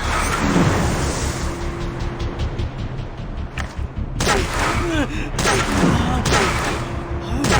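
Dragon Raja gameplay with repeated heavy gunshots and booming impacts over a dense, loud action-game soundscape, several sharp blasts spaced a second or so apart, with some speech mixed in.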